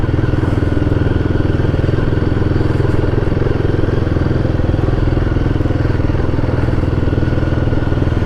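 Royal Enfield Guerrilla 450 motorcycle engine running at low speed in third gear, a steady loud close thrum with a rough, lugging pulse that holds throughout.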